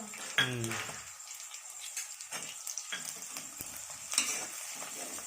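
Onions and sliced green chillies sauté in a home kitchen pan for veg kurma, with a quiet, steady sizzle broken by scattered scraping and stirring clinks of a spoon.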